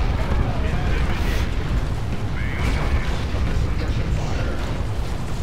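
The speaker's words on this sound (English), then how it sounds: "Fire the artillery." Artillery explosions in the Warhammer 40k strategy game Dawn of War 2 Retribution, rolling into a continuous, heavy rumble of booms and bursts that fills the whole stretch at a steady loudness.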